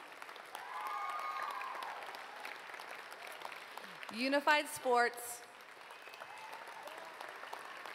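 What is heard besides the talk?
graduation audience applause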